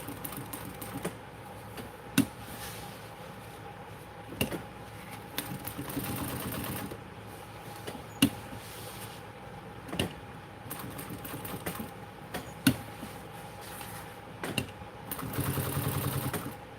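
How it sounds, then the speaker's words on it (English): A sewing machine stitches over layered fabric while sewing a Temptress garment, a steady low mechanical whir running throughout with several sharp clicks and brief pauses, a slightly louder burst of stitching near the end. "Let's stitch on top of all of this."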